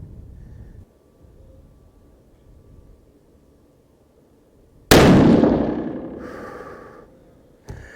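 A single loud Savage Impulse rifle shot in 300 Win Mag cracks sharply and rings out with a decaying tail lasting a couple of seconds, followed by a brief metallic clack near the end, with low outdoor rumble beforehand.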